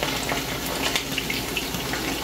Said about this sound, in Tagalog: Kaya ako piniprito para maalis yung lansa.